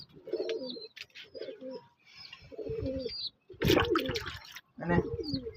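Pigeons cooing close by in repeated throaty bursts with short pauses, several calls overlapping, during rainy weather while being fed.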